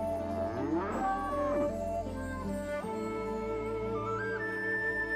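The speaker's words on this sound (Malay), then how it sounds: "kerbau," A water buffalo lows in a drawn-out, wavering moo, followed by softer rising tones, with a steady hum underneath.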